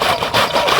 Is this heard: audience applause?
no